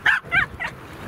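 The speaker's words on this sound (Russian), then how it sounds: "Собаки." Several dogs bark outdoors near a house, giving three loud yelping barks in quick succession followed by fainter yips.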